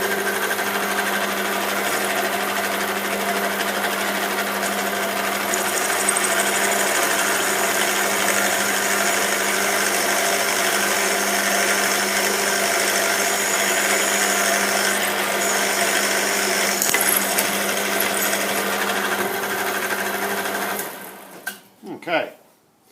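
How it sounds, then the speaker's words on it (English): A drill boring an oil port through the gib strip of a centre lathe, a steady close mechanical whir running continuously for about twenty seconds before stopping abruptly with a few clunks. "drill through our oil port all the way through the gib strip"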